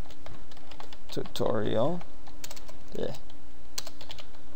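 Computer keyboard typing while entering a folder name, a few scattered key clicks spread across the clip alongside a short stretch of speech.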